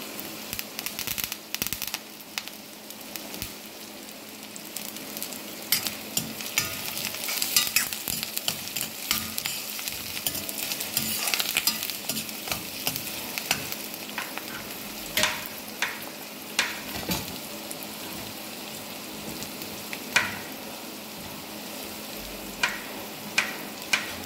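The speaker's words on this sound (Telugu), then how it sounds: "వీటిని ఇట్లా పచ్చి వాసన పోయేదాకా వేయించుకోవాలి" Bitter gourd frying in oil in a pan and being stirred, a steady hiss of sizzling broken by frequent scrapes and clicks of the spoon, close and without voices.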